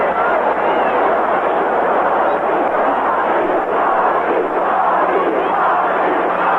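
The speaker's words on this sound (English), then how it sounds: "Crowd chanting, Ozzie, Ozzie." A large baseball crowd in a Braves at Cardinals game chants Ozzie Smith's name, a loud, continuous roar of massed voices filling the stadium without break.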